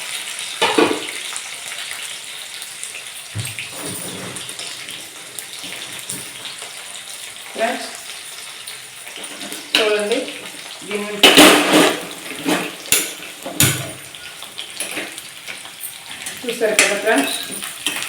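Ponnaganti greens curry cooks in a pan, giving off intermittent stirring scrapes, soft bubbling and sizzling bursts of varying loudness, with a voice talking at times.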